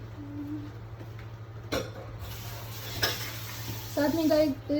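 Pots, pans and dishes clink and clatter as they are set aside during breakfast cooking in a home kitchen, with a few sharp knocks over a steady background hum and some faint sizzling.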